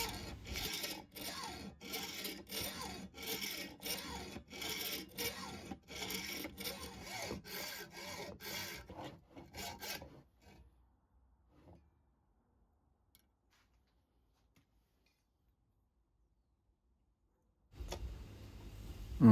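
Rapid, steady rasping strokes of a hand saw cutting through a brass rod for a keepsake box hinge, close and loud for about ten seconds before stopping, then a short burst of noise near the end.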